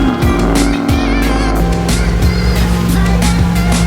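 A lifted pickup truck spins donuts while off-roading, its engine roaring steadily and loud with tires churning, close and continuous with no talk.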